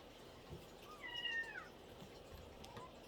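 A pet cat lets out a single drawn-out meow that bends downward, quiet and close in an otherwise hushed room.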